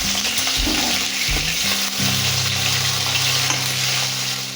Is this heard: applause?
no